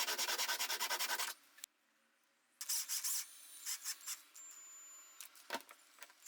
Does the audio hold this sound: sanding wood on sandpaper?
yes